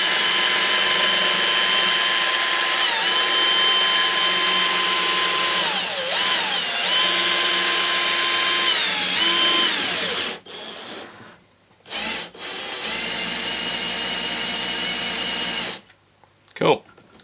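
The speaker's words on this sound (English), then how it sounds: "If you want to be quick with this, you can use a drill." Power drill spinning a threaded rod through a captive nut on a 3D printed manual mill, a loud steady whine with pitch dips as it loads, then stopping and restarting in short bursts before falling quiet.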